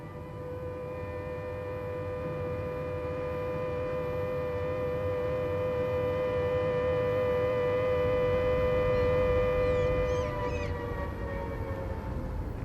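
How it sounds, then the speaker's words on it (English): A steady wailing dock siren on the Mersey waterfront, sounding to call dockers to work, holds one long sustained harmonic tone for the full length, loud and close over a low rumble of background noise. "the whaling siren sounded to summon the dockers of the Mersey to work once more in peace"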